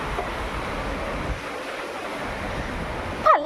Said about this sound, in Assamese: কৰিডৰত ইমান বতাহ।